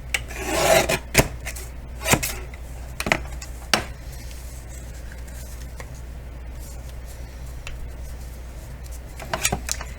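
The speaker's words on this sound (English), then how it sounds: "let's get this into the trimmer" Sharp scraping cuts and clicks from a paper trimmer slicing paper, a few quick strokes at the start, then quieter intermittent clicks over a low hum.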